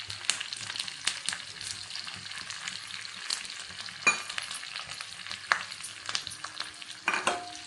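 Cumin seeds, chopped ginger, green chili and curry leaves frying in a pan over low heat, giving a continuous close crackling sizzle broken by sharp stirring scrapes.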